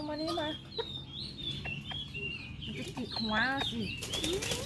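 Bantam chickens clucking busily up close, a rooster courting a hen, with a brief flutter of wings and sharp rising calls throughout.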